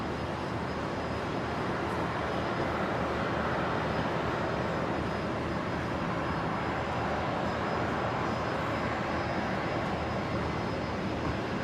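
An aircraft takes off from runway 01 right at Brisbane Airport, heard as a steady, loud, broadband engine roar held continuously without pauses or talk.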